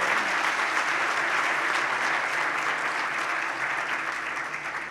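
A large audience claps loudly and steadily at a Gujarati talk, sustained applause that holds strong throughout and tapers only slightly at the end.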